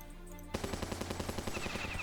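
Rapid bursts of machine gun turret fire in the video game Battle Nations, starting abruptly after a quiet moment and continuing as an even, fast rattle of shots, loud and with no speech.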